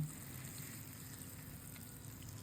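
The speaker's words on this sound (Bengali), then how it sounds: "আমি মাছগুলো ভেজে নিচ্ছি" Fish sizzling as they fry in a pan, a steady, faint hiss of hot oil with a low background hum, no voices.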